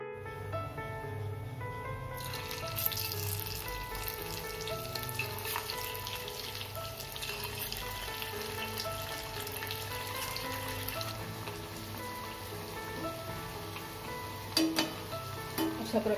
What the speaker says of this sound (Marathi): आता ते मी फ्राय करून घेते। तेल मी ऑलरेडी तापत ठेवलेले आहे।